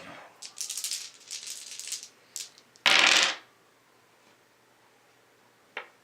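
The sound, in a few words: dice rolling in the board game Great Gobbo Grab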